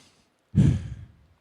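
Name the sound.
person demonstrating their breathing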